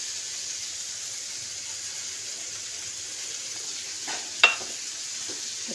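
Tengra fish sizzles in a pan with green tomato and turmeric, a soft steady frying hiss with a brief clatter of utensils near the end, no voices.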